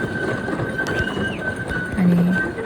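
A small park ride train in Pullen Park runs with a steady rumbling clatter, and a short, bright horn toot sounds near the end over the running noise.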